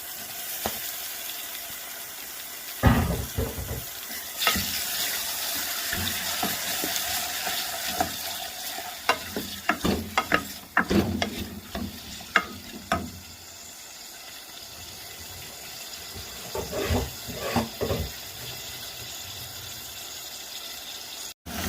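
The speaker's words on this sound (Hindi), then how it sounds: "कलेजी डाल के आपने मज़ीद इसे 2 से 3 मिनट भूनना है।" Pieces of mutton liver fry in a pan, giving a steady sizzle under repeated scraping and clinking of a spoon against the pan, with busy stirring in the middle and quieter stretches.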